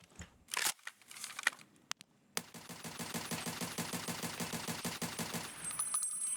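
An automatic weapon fires in a video game: a few scattered shots, then a sustained, rapid and very even burst of gunfire lasting several seconds, heard alone at moderate level.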